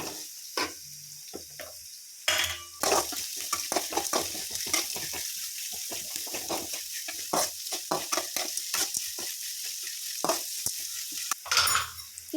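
Three lengthwise-sliced onions roasting in a pan until light golden for spinach masala rice, loud sizzling with dense, rapid stirring clatter of a spoon against the pan, close up.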